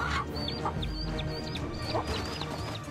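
A chicken clucking, with a run of short, high, repeated calls spaced through three seconds over a steady, noisy outdoor background.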